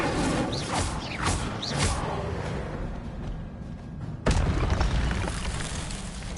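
An Incendio fire spell cast in Hogwarts Legacy bursts out with a sudden loud whoosh and boom that rumbles and fades over a steady, dense game background.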